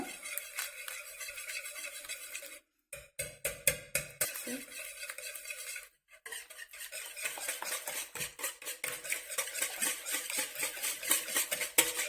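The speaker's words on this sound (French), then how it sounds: "vous prenez votre fouet et vous mélangez énergiquement" Eggs beaten energetically with a whisk in a bowl for a yogurt cake batter, a close, fast, rhythmic clatter of wire against the bowl in bursts, with two brief pauses and no talking.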